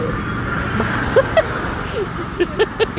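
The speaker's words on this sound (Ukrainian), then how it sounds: "Їдуть машини, гуде все." Steady roar of traffic close by on a street near a river bridge, with cars passing continuously and a few short bird-like chirps over the rumble; no speech.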